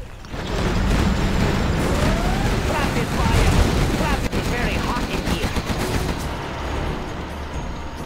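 Rapid machine gun fire rattles continuously in Command & Conquer Generals Zero Hour, loud sustained bursts mixed with battle explosions, while unit voice lines talk over it.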